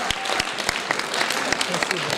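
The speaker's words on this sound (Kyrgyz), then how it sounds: "Кол чабып коштоп салабыз." Audience clapping at a creative talent competition, a steady wash of many hands with a few sharper individual claps standing out over 2 seconds, fairly close and moderately loud, no voices over it.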